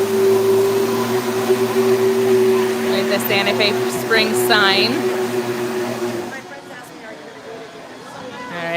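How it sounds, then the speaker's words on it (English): Blender whirring as a steady, fairly loud hum at a rose parade float workshop, with people talking over it before it cuts out near the end. "As you can hear, the blender."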